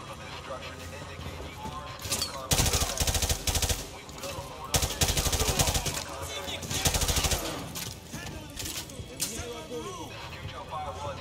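Automatic weapon fire in Call of Duty Modern Warfare 2 Remastered, several loud rapid bursts of machine-gun shots separated by brief pauses, over game ambience with a person talking at times.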